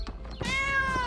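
A kitten gives one drawn-out, clear, high meow after a few soft thumps, close and fairly loud against a low background hum.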